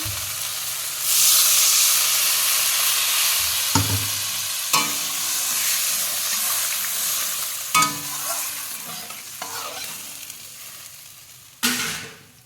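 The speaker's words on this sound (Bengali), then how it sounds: "মশলা কষানোর পরে তেল উঠে এসছে এইবার আমি জল দিয়ে দেবো পরিমাণ মতো" Water poured onto fried spice paste in hot oil for a fish curry, bursting into a loud sustained sizzle and hiss that fades slowly, with several sharp clatters of stirring or utensils along the way.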